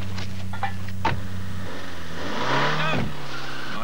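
A Renault 19 Chamade saloon pulls away loudly and close by. Its engine hums steadily, then revs up as it drives off, with a faint squeak of tyres. No one speaks.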